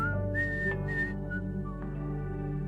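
A bright, sustained whistled tune used as a sound effect in a children's bedtime story, a few clear notes held and sliding, sounded alone over a soft low background hum.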